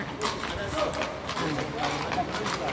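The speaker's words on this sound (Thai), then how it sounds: "รถม้าเยอะแยะเลย มีประมาณสิบคันนะที่เห็น" Horse-drawn carriages clip-clop along a street, a steady patter of hooves at mid distance under continuous chatter from people nearby.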